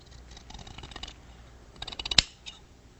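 Scissors trim a sewn fabric seam for an upholstered headboard with a few quiet snips and crisp blade closures, including one sharper cut near the end, close by and with no talk.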